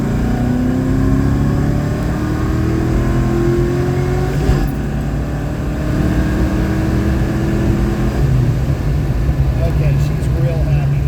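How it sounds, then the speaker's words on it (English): A Foxbody Mustang being tuned on the road pulls hard under load, its engine note climbing steadily as it accelerates. A loud, continuous in-cabin drone rises in pitch with a brief dip partway through. "Car is definitely pulling much cleaner."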